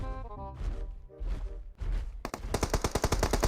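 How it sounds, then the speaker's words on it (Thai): Gunfire in the mobile game PUBG Mobile, heavy booming shots and rumbles giving way to a fast, loud automatic burst of rapid rhythmic cracks near the end. "มีเสียงปืนครับด้านหน้าเรา"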